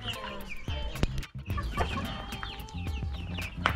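Native chickens penned together with Rhode Island and Bisaya roosters cluck and chatter nearby in a shared coop, a busy overlapping stream of short calls with occasional louder squawks.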